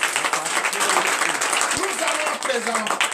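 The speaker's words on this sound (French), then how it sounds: "Donnez l'acclamation." Congregation at a morning prayer service in Benin applauding and acclaiming, continuous clapping mixed with raised voices and cheers, fairly loud and close throughout.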